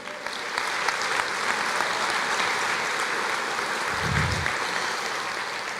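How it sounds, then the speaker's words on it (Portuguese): A church congregation claps together in a sustained, even wash of applause, with a brief low thump partway through. "Você pode aplaudir o Senhor?"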